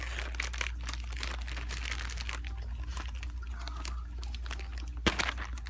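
Crinkling and crumpling of paper packaging as a mail package is opened indoors, a steady close rustle with a sharper crunch near the end.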